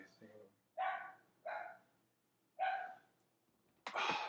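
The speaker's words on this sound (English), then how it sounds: "Dogs barking and shit." Dogs barking nearby in four short, sharp bursts with brief pauses between them, fairly loud against a quiet background.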